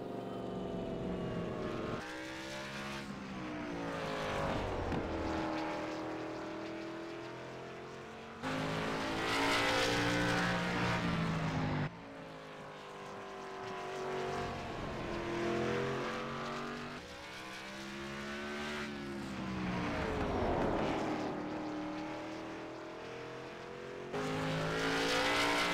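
Stock cars race around the Langley oval, with loud engine sweeps swelling and fading as cars pass near and then pull away over several laps.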